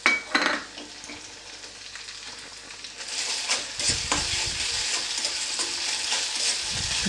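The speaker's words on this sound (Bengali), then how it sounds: "এটা আবারও আমি ভালো করে নেড়ে নেব" Aar fish kalia cooking in a pan in a Bengali kitchen, with tomato paste being stirred into the frying curry: a soft sizzle and scraping stir that grows steadier and louder partway through, with no talking.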